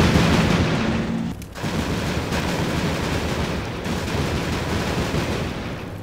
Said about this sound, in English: That could have been an automatic grenade loader.